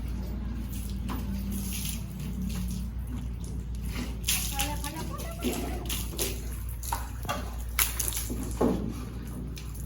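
Water splashing and sloshing in uneven bursts, with a low steady hum underneath and occasional voices in the background.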